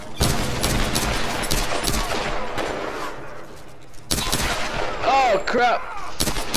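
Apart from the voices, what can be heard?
gunfire in the video game Tomb Raider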